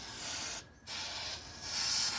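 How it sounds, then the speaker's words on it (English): Remington oil sprays in short hissing squirts onto a car's blend-door actuator servo from a 2008 Chevy Impala, with two brief bursts separated by a pause, close and quiet with no talk. "Just go ahead and squirt it with some Remington oil here."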